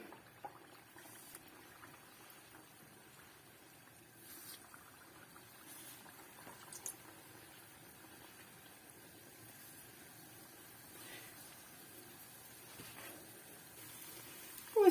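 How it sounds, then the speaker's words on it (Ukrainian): Vergun dough pastries fry in hot oil over a gas flame, giving a faint, steady bubbling hiss that holds evenly throughout with no voices. "Розігрілася моя олія, закладаю вергунчики"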